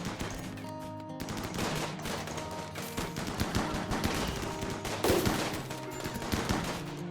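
Rapid bursts of gunfire crackle through a battle in the colony-sim game Rimworld, overlapping volleys and machine-gun rattles over a low musical drone, steady and moderately loud with no talking.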